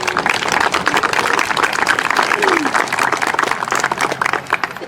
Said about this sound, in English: Just give the fire department a nice round of applause.